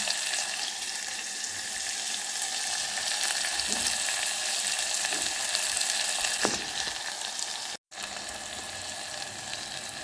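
Onions fry in a pan for foxtail millet upma, a loud, steady close-up sizzle and crackle with a few stirring scrapes and one brief cut near the end.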